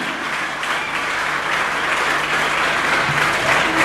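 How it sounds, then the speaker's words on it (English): A conference audience at a Rotary Interact gathering claps hands together, a loud, steady wash of applause that holds without a break. "Clap hand for who?"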